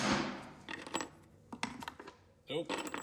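Deck screws dropped onto a hard surface in a garage, giving a few bright metallic clatters and jingles in separate bursts, close and fairly quiet, with no voices.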